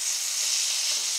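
Mahi mahi sears in a hot pan, giving a steady, even sizzle of hissing fat and moisture, moderately quiet and continuous.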